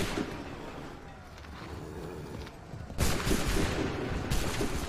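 Musket volleys crack in an Assassin's Creed III battle, a dense fusillade of gunfire bursting in two louder waves, with no clear talk over it.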